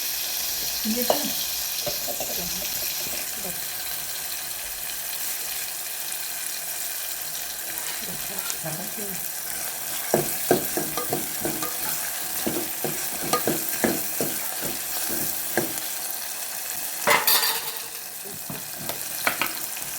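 Tomato frying in a pan, a quiet steady sizzle with a run of stirring clicks and scrapes, then a brief louder clatter near the end.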